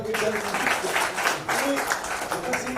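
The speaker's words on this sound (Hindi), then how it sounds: "एक बार जोरदार तालियों से" Audience applause at a welcome event for a Rajasthan minister, dense clapping from a crowd, loud and continuous, with voices mixed in underneath.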